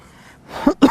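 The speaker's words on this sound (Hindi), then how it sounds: "खांसी है मेरे को, अभी भी कफ गई नहीं है मेरी" A person with a lingering cough lets out two short, close, rough bursts in quick succession after a brief quiet moment.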